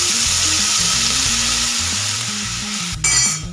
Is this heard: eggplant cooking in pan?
yes